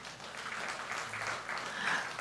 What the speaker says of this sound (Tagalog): Pumalakpak sa Lord